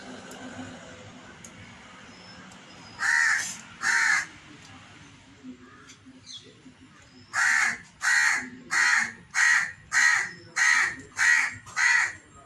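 A crow caws twice, pauses, then breaks into a run of about eight evenly spaced, loud caws nearby.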